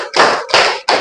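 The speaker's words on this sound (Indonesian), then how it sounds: "Tepuk 1. Tepuk 2. Tepuk 3. Tepuk 4." Three broad, loud slaps in quick succession, like several people clapping together in unison in a classroom, with no talking.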